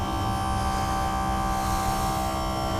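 An outboard motor's tilt and trim electric motor hums with a buzzing tone, running continuously and loudly, unchanging throughout.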